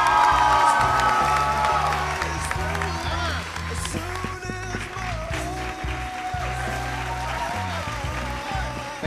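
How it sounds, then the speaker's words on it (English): A talent-show audience claps and cheers for a singer, a sustained wash of applause with whoops, while a presenter talks over it. "Big round of applause for Stephen there."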